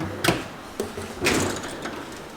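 A garage toolbox drawer opens and closes in a few sharp sliding clacks and rattles, close and distinct, with quiet pauses between them and no talking.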